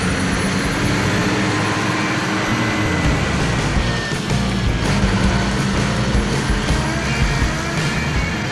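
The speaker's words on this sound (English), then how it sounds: "You can hear the timber coming and carrying heavy cargo." A heavy timber truck loaded with big, long logs rumbles past in a cartoon scene, its engine a steady, loud drone that holds throughout with no pauses.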